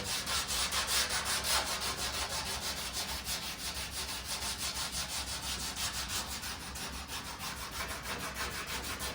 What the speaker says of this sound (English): let the sanding block do the work